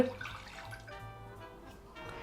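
About 250 ml of water being poured into a cooking pot for instant ramen: a faint, steady stream of water splashing and trickling into the pot, continuous and fairly quiet.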